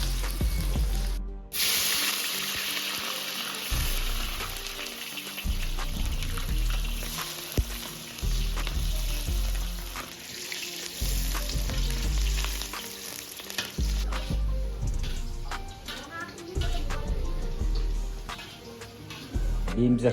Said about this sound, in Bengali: প্রথমে ক্যাপসিকামটা ভাজা নেব একটু।